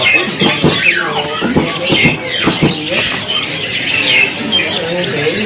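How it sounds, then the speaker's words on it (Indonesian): Caged birds at a bird market in Indonesia give repeated sharp squawks and chirps, including a sri gunting drongo, close and busy with overlapping calls and background chatter. "silakan dipantau nih untuk lagi cari burung sri gunting, posisinya burungnya udah lama ya"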